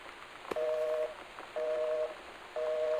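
A telephone dial tone in the video game Gone Home repeats in steady one-second bursts separated by short gaps, clear and close, with faint background hiss and no talking.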